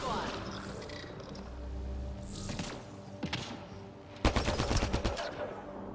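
Gunfire in the sci-fi shooter Mass Effect: Andromeda, with a few scattered shots followed by a dense, rapid burst of automatic fire near the end, over a low background hum.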